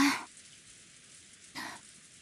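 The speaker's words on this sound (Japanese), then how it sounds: "Rosa finally realized that the peaceful sound that had put her to sleep was actually the rain." Rain falls in Umineko: When They Cry as a soft, steady patter that stays low and even under two short bursts of louder noise at the start and near the middle.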